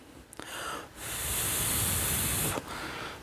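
A fragrance bottle's atomizer lets out a single sustained spray of about one and a half seconds, a close, bright hiss framed by a few soft handling noises before and after.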